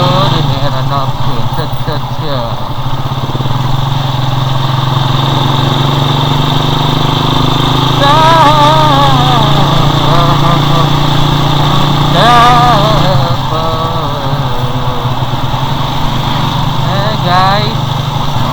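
A motorcycle engine runs steadily at low speed on a slow ride, a constant close hum with a rider talking over it throughout.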